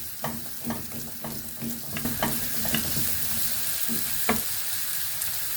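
Onion frying in a pan with a pinch of salt and pepper, a continuous close sizzle broken by quick utensil taps and stirs, clustered early then sparser.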